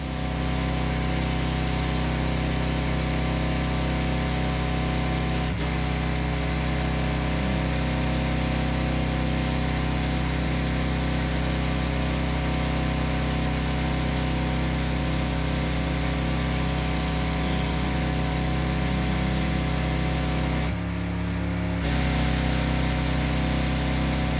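A sandblaster shooting play sand in a driveway, a loud continuous roaring hiss of air and grit that holds steady for the whole span, dropping out briefly near the end before resuming.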